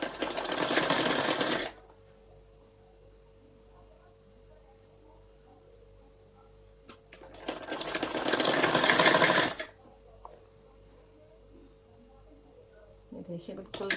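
Sewing machine stitching a sleeve seam on an A-line suit, heard in two bursts of rapid mechanical whirring about two seconds each, close and fairly loud, with quiet pauses and a faint electrical hum between them.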